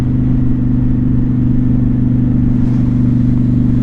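A Honda Shadow motorcycle engine runs on the throttle with a loud, steady, deep drone that holds evenly throughout, with no talking.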